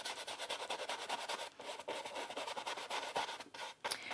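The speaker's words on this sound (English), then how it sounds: "so I'm just kind of scrubbing it in" An older paintbrush scrubs paint into textured canvas with a continuous close, dry rubbing rasp made of quick repeated strokes, with brief pauses between bursts.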